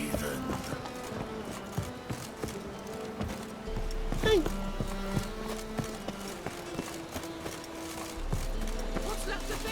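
Galloping horse hooves in The Witcher 3 pound in a quick rhythm beneath voiced game dialogue, with other effects scattered through the scene.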